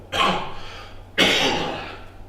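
Two harsh, breathy coughs about a second apart from a speaker at an evening church service, close and fairly loud, with a faint steady hum underneath.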